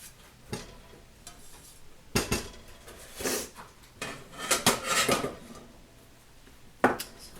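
A spoon stirs a sugar and egg white mixture into tapioca pudding in a pot, with irregular scraping and clinking strokes in short bursts, close, over a quiet background.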